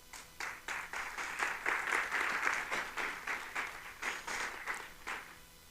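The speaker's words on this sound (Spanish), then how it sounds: "un fuerte aplauso para Juan Parc" A small audience at a wine appellation forum claps for a speaker, a modest, fairly quiet round of applause with distinct uneven bursts of hands pulsing in and out.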